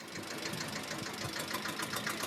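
A little toy train engine runs steadily nearby, its quick, even mechanical chatter and rattling hum holding constant throughout with no voices.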